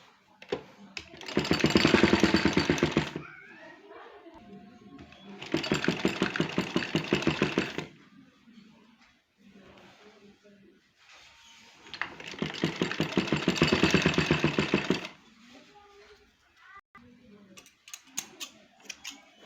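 A sewing machine runs in three long bursts of rapid mechanical stitching, about two to three seconds each, while back-stitching tucks on a school uniform coat collar, with quieter handling and shuffling in the pauses between runs.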